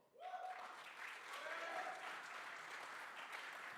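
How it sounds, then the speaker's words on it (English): A conference audience at a digital summit startup pitch contest bursts into applause, rising quickly and holding as steady, moderately distant clapping with faint crowd voices underneath. "If you really like them, clap as loud as you can"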